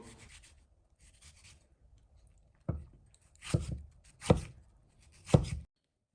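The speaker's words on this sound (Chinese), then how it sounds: "去皮的西红柿清洗干净，在顶部改十字花刀，再切成小丁。" A knife dices a peeled tomato into small cubes on a cutting board, giving a few sharp, close knocks spaced about a second apart against a quiet background.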